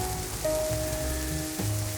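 Steady rain falls through a dark night as a car drives in a downpour, a constant wash of drops with a low rumbling hum underneath and a faint tonal whine running through it.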